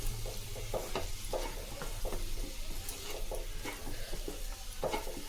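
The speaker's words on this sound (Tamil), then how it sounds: "இதில் கம்மி தீயில் வச்சு வதக்குங்க" Potatoes sauté in a pan over a low flame with a soft continuous sizzle, while a spoon stirs and scrapes them in irregular clicks, close and fairly quiet, with no voices.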